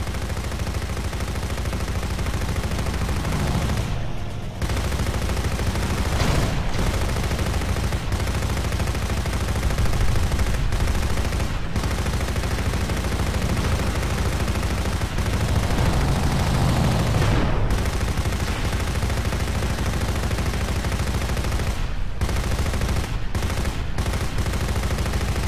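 Machine gun fire from aircraft in the video game Crimson Skies, heard as a continuous dense wall of rapid gunfire and engine roar lasting the whole stretch, with a few brief gaps.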